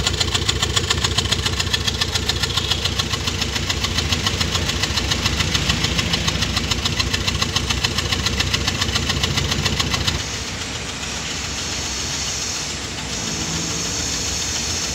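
A Hyundai i10 petrol Kappa engine idles with a misfiring cylinder, its exhaust giving a steady, loud rumble with an uneven, knocking beat close by, the level dropping slightly partway through.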